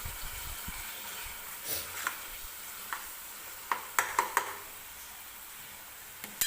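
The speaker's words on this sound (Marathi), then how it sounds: "मी छान अशी ही ग्रेव्ही सुरुवातीला तेलामध्ये भाजून घेते" A thick tomato-chilli gravy for matar paneer frying in oil in a pan gives a soft, continuous sizzle, broken by several sharp clicks of a spoon stirring and scraping the pan, all close and no voice heard.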